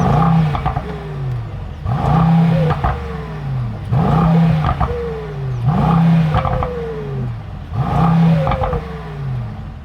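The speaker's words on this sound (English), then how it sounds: "you get your nice traditional combustion AMG startup" A Mercedes-AMG GT63 S E Performance fires its combustion engine: repeated loud, close starts, each a sharp crank and bark rising into a roaring rev, then a falling whine settling to a burbling idle, heard in cycles about two seconds apart.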